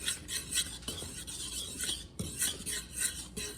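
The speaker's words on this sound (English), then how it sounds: "I'm just combining the salt into the flour and whisking" A whisk scrapes rhythmically through flour and salt in a bowl, giving repeated close stirring strokes with light metallic rasps and no talking.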